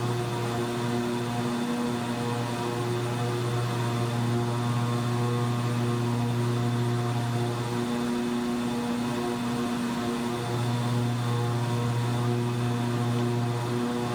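Twin turboprop engines of a King Air C90 droning steadily in an X-Plane flight simulation while flying IFR through storm cells near Kathmandu, a loud continuous hum with strong low tonal harmonics that wavers slightly in pitch, no voices.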